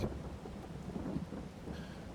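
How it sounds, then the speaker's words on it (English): Steady rain pours down in Farming Simulator 22 in a continuous hiss, with low rumbles of thunder rolling underneath throughout. "Obviously the rain has started"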